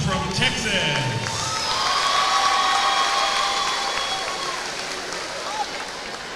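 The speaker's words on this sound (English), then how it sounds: "Let's have a big round of applause for our team from Texas." Crowd applauding and cheering for a Texas girls' basketball all-star team at a showdown event in an arena, a steady roar of clapping and cheers that holds across the whole stretch and slowly fades near the end.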